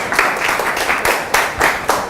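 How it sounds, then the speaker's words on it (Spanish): A group claps for a student team in a classroom, brief loud bursts of rhythmic applause rising and falling several times in close succession. "Un aplauso para todos"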